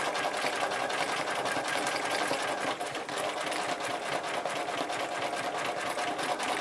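A sewing machine runs steadily and close by, stitching thread layered over itself, with a fast, even mechanical chatter that continues without pause.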